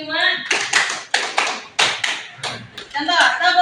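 A classroom of children claps a five-beat pattern together: loud, close, sharp group claps in a quick sequence, with voices before and after.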